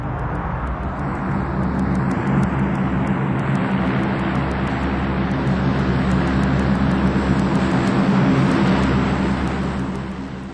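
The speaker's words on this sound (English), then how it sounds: "The bulk of a Hercules brought to a halt in about 750 meters" A Lockheed Hercules turboprop on a tactical landing roll, braking with reverse thrust, a loud sustained roar with a steady droning hum that holds for about ten seconds before easing off.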